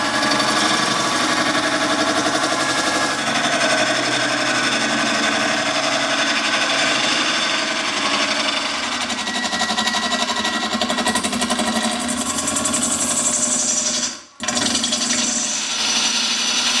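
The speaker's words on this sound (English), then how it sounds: "I'm using my carbide tools for this. You hear that sound? That da-da-da-da-da-da-da? That means it's out around." Carbide lathe tool cutting a bowl made of popcorn that is spinning out of round, giving a continuous loud rough scraping with a steady rapid chatter, close up, briefly cutting out near the end.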